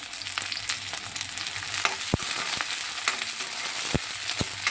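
Ginger, garlic, coriander and curry leaves fry in a pan for cabbage manchurian, giving a steady close sizzle with occasional sharp crackles and pops spread across the clip, and no talk.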